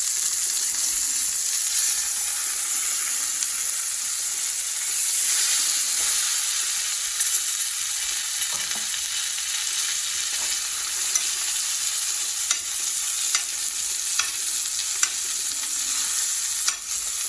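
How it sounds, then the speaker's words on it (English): A steak sears in a hot pan just after being flipped, a steady loud sizzle running throughout with small pops and crackles, no voices. "I'm going to flip the steak."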